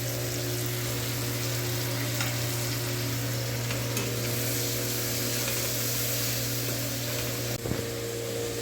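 Spices and chopped tomato sizzling steadily in a pan for mocha chingri, a loud continuous frying hiss with faint stirring scrapes and a low hum underneath.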